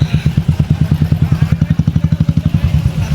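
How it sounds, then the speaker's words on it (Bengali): A motorcycle rides along a crowded road to a Rath Yatra fair in Shyampur, its engine throbbing in a steady, rapid thump close by and loud, with no talk over it. "বাইক চালাচ্ছি তো, আমার বন্ধুটা ভিডিও করছে।"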